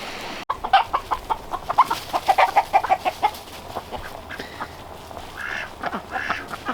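Ducks and chickens forage in spring woods in the Wyoming mountains, giving a run of repeated clucks and quacks at moderate distance over a quiet outdoor background, with no talk.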